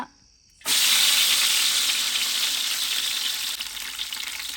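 Mint hitting hot cooking oil for Hosakote biryani, village-style outdoor cooking: a sudden loud sizzle bursts in after a brief quiet start and holds as a steady, bright frying hiss.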